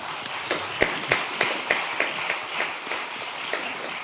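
Scattered audience applause at a Germany–Ghana investors forum, fairly thin and quiet with individual claps standing out in an uneven rhythm, fading slightly toward the end.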